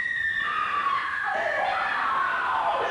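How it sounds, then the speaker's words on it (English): A woman screams from the dark in a Five Nights at Freddy's analog horror piece, a long, shrill, wavering cry rising then falling, heard alone against a faint hiss. "we can hear Vanessa scream out violently from the dark"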